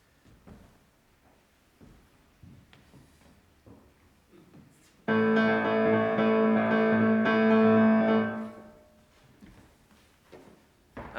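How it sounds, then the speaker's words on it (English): Piano plays a composite cross-rhythm of four notes against three, a dense sustained burst of layered notes lasting about three seconds between quieter knocks and faint room sounds. "So if you get the composite rhythm on the piano, it would sound like this"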